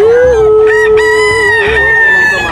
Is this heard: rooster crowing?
yes